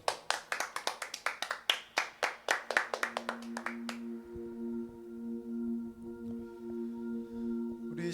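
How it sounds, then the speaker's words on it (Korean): A church congregation at a Sunday worship service claps in praise, with about four seconds of steady, rhythmic claps. Sustained keyboard tones then carry on alone. "하나님 아버지께 영광의 박수 올려드립시다."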